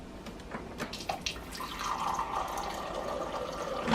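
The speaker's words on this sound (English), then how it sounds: "let's try adding a little bit of water to both of these" A few drips and splashes, then a continuous stream of cold water pouring into a bowl of Thrive Life tomato sauce mix, close by with no talking.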